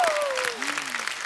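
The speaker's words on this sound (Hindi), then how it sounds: "तो एक बार जोरदार तालियां" Steady applause from an audience fills the clip, with a voice speaking over it and a gliding tone sliding downward.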